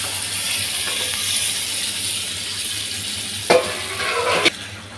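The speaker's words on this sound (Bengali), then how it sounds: "এবার একটু ভালো করে মশলার ঝুলোর মধ্যে নেড়ে দেব।" Nearly 2 kg of cow tongue stirred and fried in a thick mustard-chilli masala in a pan, a steady soft sizzle with two sharp louder scrapes of stirring near the end.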